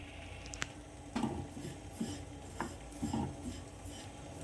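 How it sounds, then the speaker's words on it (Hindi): Sesame seeds roasting and being stirred in a pan while a jaggery syrup cooks nearby: an ongoing dry scraping rasp with periodic louder stirring strokes over a steady background hiss, close by. "जब तक ये हो रहा है मैं तिल भून लेती।"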